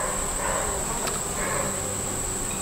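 Honey bees buzzing around a horizontal hive, a dense, steady hum of many insects close by with a high whining tone running throughout, no speech.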